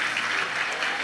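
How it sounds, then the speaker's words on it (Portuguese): A church congregation at a Portuguese-language sermon breaks into a brief, dense burst of applause, loud and continuous for about a second. "Dá um aplauso bem forte aí"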